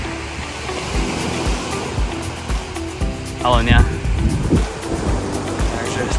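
Sea waves wash onto a beach in Valencia, a continuous rushing surf with a swell midway, while someone briefly speaks close by.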